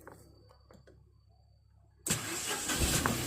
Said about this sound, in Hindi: मैं अपनी नैनो में सेल्फ लगाऊंगा तो आप आवाज को सुन सकते हैं कैसे कितनी स्मूथ स्टार्ट होगी।